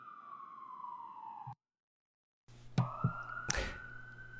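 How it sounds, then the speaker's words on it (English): A siren wails steadily, cuts out briefly, then resumes with a rising tone alongside a low engine rumble and a couple of sharp knocks. "Hold on, I got sirens."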